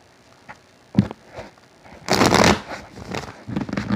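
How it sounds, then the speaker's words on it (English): Tarot cards being shuffled nearby: a few soft taps, then a dense burst of riffling flutter, followed by lighter shuffling sounds. "One more shuffle, my friends."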